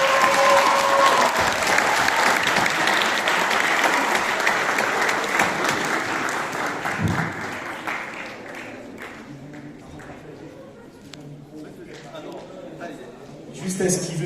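A festival audience applauding in a hall, dense sustained clapping that slowly thins and fades, with a brief swell of claps near the end and a voice speaking over part of it.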